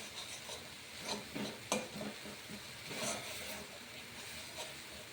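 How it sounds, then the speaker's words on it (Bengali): Spice paste sautéing over low heat in a pan with a little water, for a vegetarian cauliflower and paneer curry; a soft steady sizzle with occasional stirring scrapes, fairly faint and without talk. "আঁচটা একটু হালকা করে মশলাটা ভালো করে কষিয়ে নিতে হবে"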